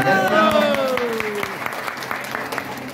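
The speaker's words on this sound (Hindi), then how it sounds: "एक बार और ताली बजा दीजिए हेल्थ गार्ड ऑयल के लिए।" Audience claps in a crowded hall for Health Guard oil during an RCM presentation, dense applause under a sliding tonal whine at the start, then scattered sharper claps continuing.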